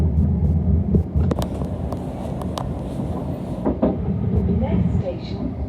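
A London Overground train bound for Enfield Town rumbles steadily with low-pitched running noise, light rattles and clicks throughout, with wind buffeting and a faint announcement voice in the carriage.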